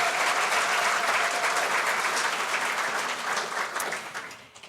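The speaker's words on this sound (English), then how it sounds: "Let's give them a round of applause." Sustained audience applause fills a plenary conference hall, dense and steady clapping from a large crowd that tapers off near the end, with no talking over it.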